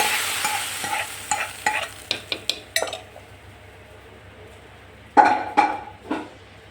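Spices for tempering sambar crackle and sputter in hot oil in a pan, with a ladle scraping and clinking against the metal in short bursts, loud close taps and stirs that fade and then return strongly near the end.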